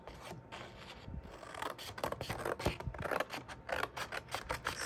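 Scissors snip through lined notebook paper to cut it in half, a series of close, crisp cutting strokes and rustles that grow more rhythmic toward the end, with no talking.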